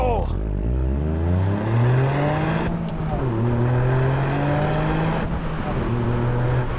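Toyota GR Yaris in track mode launching hard, engine revs climbing loud and close through the gears with clear drops at each upshift, heard from inside the car.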